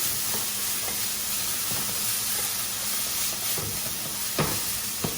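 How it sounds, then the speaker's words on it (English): A steady frying sizzle of quinoa and onions with scattered soft scrapes and clacks as they are stirred around a pan, close and fairly quiet. "Give that a little stir"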